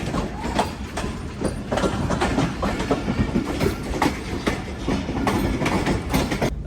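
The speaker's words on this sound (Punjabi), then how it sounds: "ਟ੍ਰੇਨ ਬਿਲਕੁਲ ਪਲੇਟਫਾਰਮ ਤੇ ਆ ਗਈ" A passenger train pulling into a junction platform, its wheels beating out a steady, rhythmic clickety-clack over the rail joints, loud and close, with the rumble of the cars continuing throughout.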